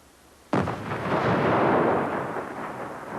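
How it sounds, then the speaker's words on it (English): A seismic explosion set off for oil exploration in Wyoming booms suddenly, a single deep blast that rolls on in a long rumbling decay, heard alone without voices. "finding oil means that we have to probe the structure of the Earth with seismic explosions."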